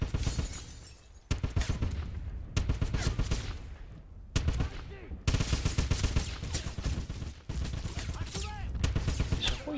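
Gunfire in the Wolfenstein video game: repeated loud bursts of rapid automatic shots, separated by brief pauses, with sharp cracks and echoing tails.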